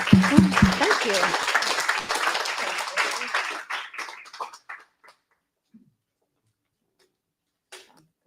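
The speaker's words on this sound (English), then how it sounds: "Well, if we can please give a massive round of applause to Dave then, please." Audience applause at a Brighton Python community meetup, a loud burst of many hands clapping that thins out and fades to silence after about five seconds, with a few scattered late claps.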